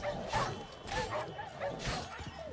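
Dogs in The Witcher 3 yip, bark and whimper in short, close bursts over a few seconds, with low game noise in the background.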